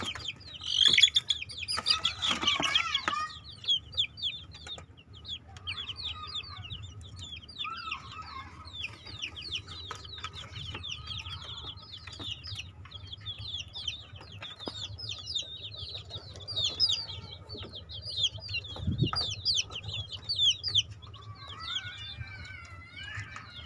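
F1 Bangkok Jalak Widow cross chicks peep constantly in a dense, high-pitched chorus of rapid chirps, with a louder burst of cheeping at the start and a low hum underneath throughout.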